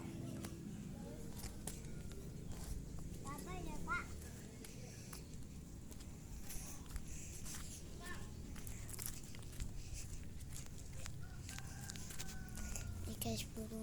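Chickens cluck and a rooster crows now and then in a noisy outdoor yard, faint and mixed with steady background rumble and scattered clicks.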